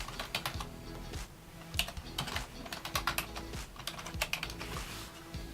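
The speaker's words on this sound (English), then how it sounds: "You're going to type in your email address as your username." Typing an email address on a computer keyboard, quick irregular clusters of close, crisp keystrokes with short pauses, moderately quiet over low room hum.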